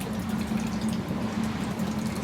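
Thick coconut milk poured from a can into a pot, a steady close liquid gurgle and splash with a faint hum underneath, no talk.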